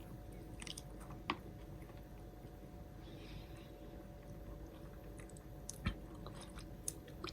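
Someone quietly chews a big Japanese rice cake snack coated in white chocolate, with a steady soft mastication sound and a few sharper bites and crunches standing out against a faint background hum.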